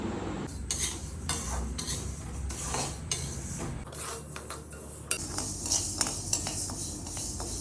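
Almonds and rice being dry roasted in a pan at home, with a spatula scraping and stirring in repeated strokes, light rattling and clinking of grains against the metal, close and clear with no talking.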